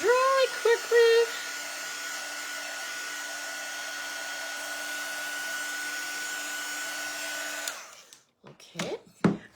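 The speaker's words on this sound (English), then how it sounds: "only reason I'm drying this right now is because we don't want any of that paste to budge or smudge" A hair dryer blows on transfer paste spread over a decorated tile, making a steady, loud whirring hum that runs unbroken for several seconds and then shuts off. A voice is briefly audible near the start and again after it stops.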